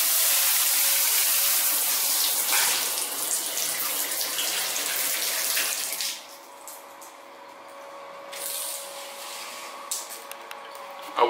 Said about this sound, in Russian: Если хочешь, чтобы из этой лейки пошла вода